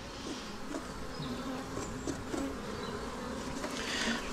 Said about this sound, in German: Und dann haben wir hier nochmal unsere Bienen.